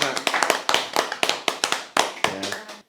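One person claps for themselves at the end of a comic book issue commentary. Quick close claps come in an uneven run over a faint voice and room noise.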